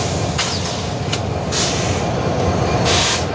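Karnaphuli Express train departing Kamalapur station: a loud, steady rolling rumble of railcars with several sharp bursts of hissing air brakes, no talk.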